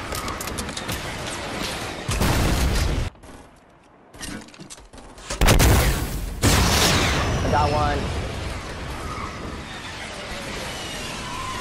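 Gunfire in a multiplayer shooter squad match bursts loudly in heavy volleys with booms and a brief lull, while players talk over the action.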